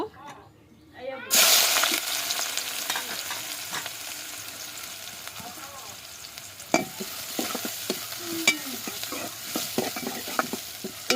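Chopped onions dropped into hot oil in a pan, a sudden loud sizzle that settles into a steady frying hiss, with scraping stirs and occasional clinks of the utensil throughout.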